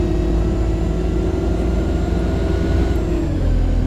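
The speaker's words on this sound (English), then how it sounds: "That engine does really sound nice, and having been a passenger on many a Enviro 200, does sound, I think, quite realistic." Enviro 200 bus engine in the OMSI bus simulator game, a steady loud mid-pitched drone that holds at speed and shifts slightly near the end, with no talk over it.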